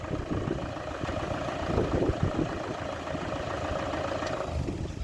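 A Toyota Hilux pickup idles close by with a steady, even low rumble that holds for several seconds, with no voices over it.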